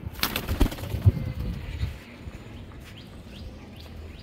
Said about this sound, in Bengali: তো কবুতরটাকে আমি ছেড়ে দিচ্ছি।